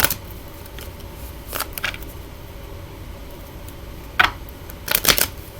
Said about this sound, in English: I want to give this a nice riffle shuffle, whatever you call it.